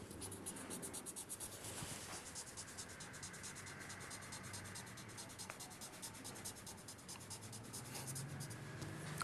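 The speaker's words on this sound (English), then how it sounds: "Take your secret fluid pen and write over." A pen with secret fluid writing over a sheet of paper, a faint steady scratching that runs continuously under a low background hiss.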